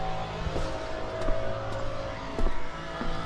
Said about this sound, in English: Sounds like he's got like an exhaust leak or something.